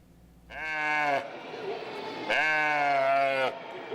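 Sheep bleating at an agricultural education day for young students, two long wavering cries in a row, loud and close against faint background noise.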